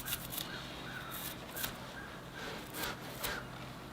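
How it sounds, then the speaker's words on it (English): Crows cawing in a larch forest in January, several loud, harsh calls repeating at irregular intervals over a quiet background, with no talk. "Just me and the crows."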